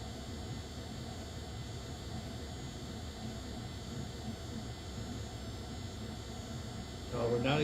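Cessna Citation X jet engines idle down in a flight simulator, a steady faint whine and rush with a constant tone that swells slightly near the end.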